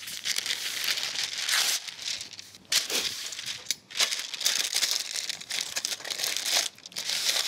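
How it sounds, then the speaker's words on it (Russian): Baking paper crumpled and pressed into a 24 cm springform baking pan, continuous loud crinkling and rustling up close with short pauses, no talking. "Форму я застилаю тоже бумагой"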